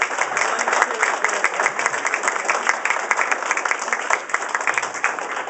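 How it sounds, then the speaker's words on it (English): An audience applauds a speaker with a full, even roar of clapping from many people that holds steady and close throughout. "And so, could we just give Terry Loebsack a really great round of applause?"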